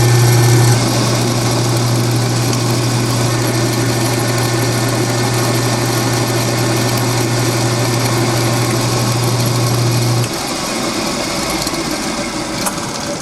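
An alternator spins on an OTC Mini-Tune bench tester, giving a loud, steady motor whine with a constant low hum that drops out near the end while the spinning carries on.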